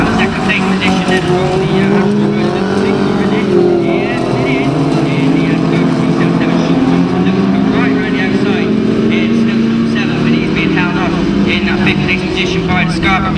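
Autograss race cars roar into the first corner at a Nottingham meeting, a loud, continuous engine drone with shifting revs, while a commentator talks over it throughout.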